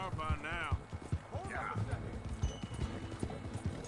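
Hoofbeats of a horse galloping in the Red Dead Redemption 2 video game, a steady clip-clop rhythm running under loud, excited talk from several voices.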